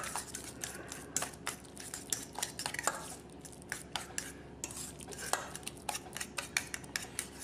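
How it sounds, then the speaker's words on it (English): Avocado deviled egg filling with olive oil being mixed in a bowl, soft irregular clinks and scrapes of a utensil against the dish, faint and close, with no talking. "Now I'm going to go ahead and just mix all those ingredients up here"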